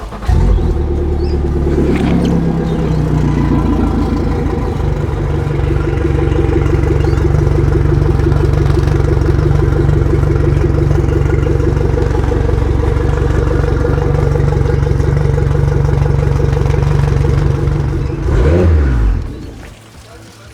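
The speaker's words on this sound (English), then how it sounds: "that finishes flushing both of our engines with the round flush muffs and your rectangle dual inlet" Two boat outboard engines run on the hose while being flushed with water through round flush muffs and a rectangular dual inlet, giving a loud, steady, close rumble with rattly clatter for about eighteen seconds before shutting off.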